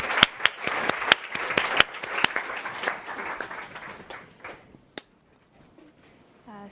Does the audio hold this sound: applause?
yes